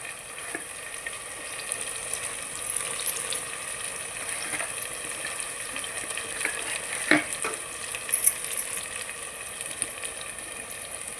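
Ground chili masala paste fries in a pan with a steady, moderate sizzle, marked by occasional spoon scrapes and a few brighter crackles toward the end.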